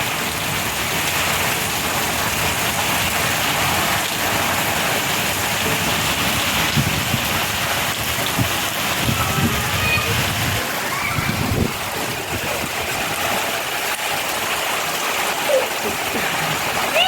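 Heavy rain falling steadily during a storm, a dense continuous hiss of drops with splashing, while someone talks faintly underneath throughout.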